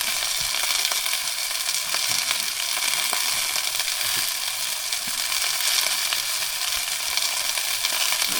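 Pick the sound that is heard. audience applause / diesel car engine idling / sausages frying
sausages frying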